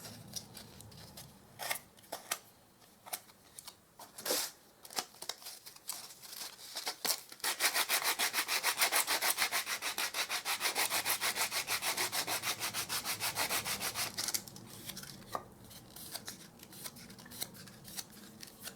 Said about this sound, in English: with a piece of sandpaper, just neaten that off